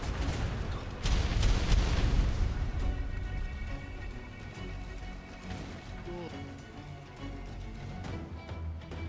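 Ship cannons firing in a naval video game, a burst of heavy booming shots early on, then rumbling fades over ongoing game ambience with some background voices.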